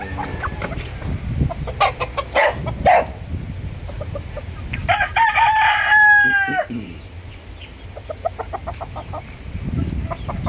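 A rooster crows loudly amid clucking chickens and other birds in a small backyard farm, with a busy farmyard chorus throughout.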